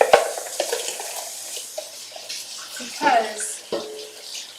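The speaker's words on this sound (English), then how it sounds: "Let's just rinse it really quick." A blender is rinsed under a running tap while vegan raspberry fudge frosting is made in a home kitchen, giving a steady splashing water flow with clinks of the container, and a voice speaks briefly over it.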